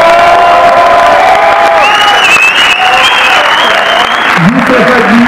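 Audience at a film presentation applauds and cheers loudly and steadily, with whoops and shouts rising over the continuous clapping.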